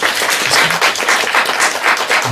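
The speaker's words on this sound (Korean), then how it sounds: "박수하겠습니다" A church congregation claps together after a Bible-copying pledge, loud and close, with rhythmic pulses of many hands swelling and easing throughout.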